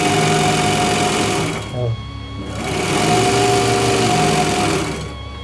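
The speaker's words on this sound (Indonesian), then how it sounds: "Begitu sedikit cara merakit mesin obras Pegasus di meja, dan alhamdulillah beroperasi dengan normal." A Pegasus overlock serger, freshly assembled on its wobbly table, runs in two steady buzzing stretches with a short pause between them, close and loud throughout.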